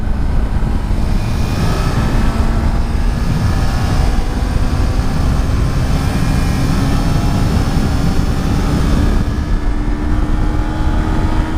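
A motorcycle's engine drones steadily and loudly as the rider leans it through a curve, with a constant mechanical hum and rushing wind noise throughout.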